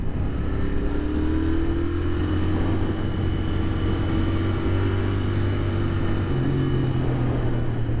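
Royal Enfield Interceptor 650 parallel-twin engine while riding, a steady, loud, continuous drone with a low throbbing tone that shifts pitch slightly as the bike holds speed, heavy wind rush around it and no voices.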